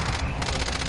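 Rapid automatic gunfire in Call of Duty Warzone, a dense, loud burst of overlapping shots filling a brief moment, with a player's voice mixed in.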